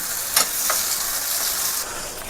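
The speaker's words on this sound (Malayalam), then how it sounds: "നന്നായിട്ട് മിക്സ് ചെയ്യണം കേട്ടോ" Food is stirred and mixed in a hot pan, a continuous close sizzle with scraping strokes of the spoon standing out briefly near the start.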